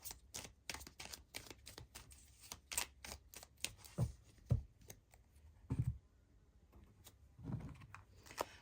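Tarot cards are shuffled and drawn close up in a quiet room. Rapid crisp riffling clicks come in bursts, broken by a few softer slaps and taps as cards are set down.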